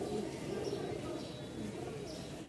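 Pigeons coo softly amid a pigeon fair with many birds, low, repeated burbling calls mixed with a faint murmur of people talking in the background.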